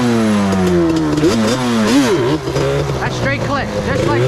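A Yamaha Banshee ATV engine revs hard while the clutch is worked, a loud, close two-stroke whine that rises and falls in quick swells over steady engine drone.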